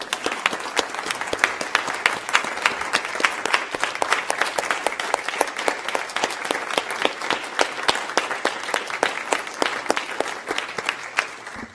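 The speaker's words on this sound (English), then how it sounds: "maybe we could just offer up a round of applause for our city staff" A council chamber audience gives city staff a sustained round of applause, dense overlapping claps filling the room steadily for the whole stretch with no talk over it.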